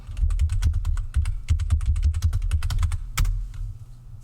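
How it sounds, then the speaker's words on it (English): Fast typing on a loud computer keyboard, with dense clacking keystrokes and a heavy low thump beneath each press, close and continuous with no voices. "Yes, I have a very loud keyboard."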